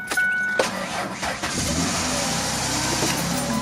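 A car engine cranks and catches just after a Halo Bolt jump start, then settles into a steady, close running drone with a brief rev.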